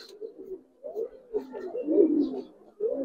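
Giribaz pigeons coo in short, soft, rolling phrases, several throaty calls close by separated by brief pauses.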